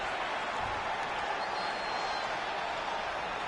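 A dense, steady roar of the home crowd fills a WWE 2K20 wrestling arena, constant cheering and clapping at even loudness with a commentator's voice under it.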